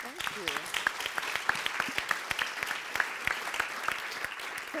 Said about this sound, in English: warm and welcoming round of applause.